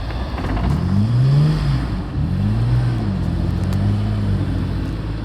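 A Chevy truck with a solid axle swap on snow tracks works through deep snow, its engine rising and falling in several revving surges, close and steady.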